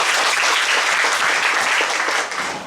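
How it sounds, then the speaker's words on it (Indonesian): Loud, dense applause from a church youth retreat congregation, sustained and steady throughout, easing slightly near the end. "Luar biasa, tepuk tangan."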